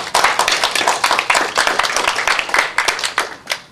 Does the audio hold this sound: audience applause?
yes